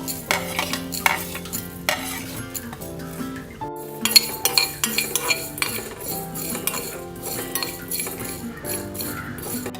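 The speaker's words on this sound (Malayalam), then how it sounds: "അതിന് എണ്ണയില്ലാണ്ട് വറുത്തെടുക്കാം." Coriander seeds dry-roast in a pan without oil, with frequent metallic clinks and scrapes of a spoon stirring against the pan, close-up and fairly loud over a faint background hum.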